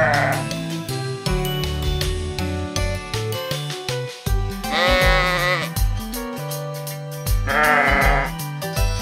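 Sheep bleating in a toy farm story, two or three drawn-out bleats rising over steady background music, near and fairly loud.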